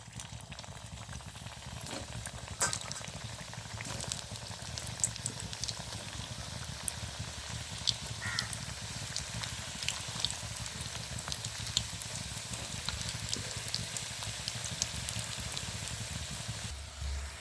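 Samosas frying in a little oil, a steady close bubbling sizzle with scattered light crackles running unbroken throughout, no talk.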